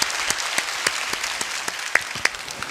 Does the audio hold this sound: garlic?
no